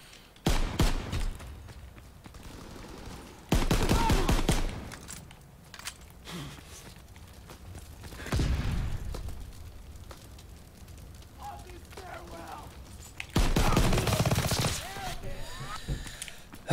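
Rifle fire in the Call of Duty WW2 video game: a few loud bursts of crunchy gunshots and a lone crack, separated by quieter gameplay noise.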